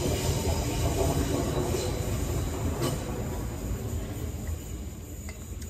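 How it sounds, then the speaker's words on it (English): A train passes along railway tracks on a quiet Sunday, a steady loud rumble of rolling wagons with faint wheel squeal and clatter, gradually easing off. "I'm looking at the train."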